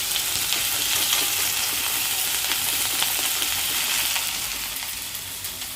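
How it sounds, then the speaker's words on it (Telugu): Chana dal, potato, green chillies and curry leaves sizzle steadily in a hot pan for semiya upma, a continuous close crackling fry with faint stirring scrapes, easing slightly toward the end. "శనగపప్పు కొంచెం ఫ్రై అవ్వాలి. ఆలు, మిర్చి అన్నీ కొంచెం ఫ్రై అయిన తర్వాత మనం"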